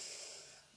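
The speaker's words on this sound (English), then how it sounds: "If you hear my dog, she's snoring in the background." A dog snores faintly in the background, giving one short, soft, hissing breath that fades out quickly.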